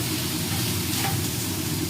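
Drumstick flowers and potatoes fry in a pan with a dense, even sizzle up close while they are stirred. No one speaks.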